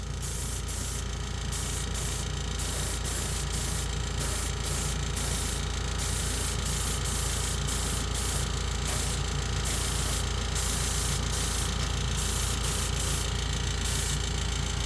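An airbrush sprays real automotive paint onto a car model chassis, producing a steady, close, hissing rush throughout with faint rhythmic flutters.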